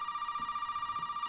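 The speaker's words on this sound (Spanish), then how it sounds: "Teléfono." Telephone ringing in the Resident Evil 7 video game, a steady electronic ring with a sustained tone pulsing rapidly, moderately loud and alone without talk.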